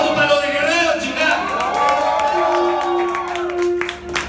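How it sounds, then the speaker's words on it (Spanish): Crowd at a live rock band show in a small café in Puebla clapping, cheering and whooping, loud and continuous, with shouts rising above the applause and a sustained tone running beneath it. "¡Un aplauso para los de Guerrero, chica!"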